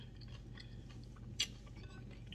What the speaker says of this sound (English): All the crunch from the carrot.